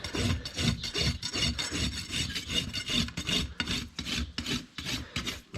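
A farrier's rasp files the hoof of a 17.1-hand Dutch Warmblood eventing horse, giving close, rhythmic scraping strokes, about a dozen in quick succession, with no talk.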